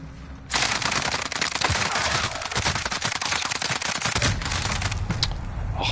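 Rapid, dense bursts of automatic gunfire from Call of Duty: Warzone on PlayStation 4, loud and sustained with overlapping shots throughout, with no talking.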